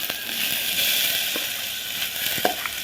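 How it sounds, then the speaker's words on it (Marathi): Moong dal roasting in ghee in a pan gives a steady, close frying sizzle with a continuous bright hiss and a few faint stirring taps, with no voices. "आता ही डाळ आपण भाजून घेऊया"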